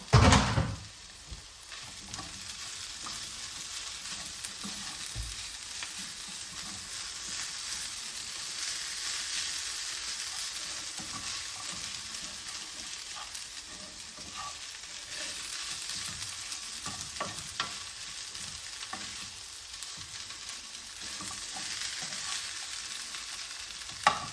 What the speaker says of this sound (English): I'm going to add the veggies now. The veggies and the onions.